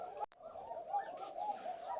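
A Shalik pigeon coos softly and steadily in a quiet space, a low repeated murmur with a brief tap near the start.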